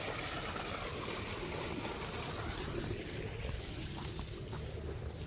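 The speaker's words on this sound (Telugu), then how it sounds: "Water sound." Water flowing steadily through a farm field in a Nizamabad village, a constant broadband rushing and trickling wash that holds even and unbroken throughout.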